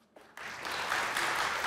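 Applause from a TV comedy talk-show audience breaks out after a brief quiet moment, quickly swelling into steady, dense clapping that carries on.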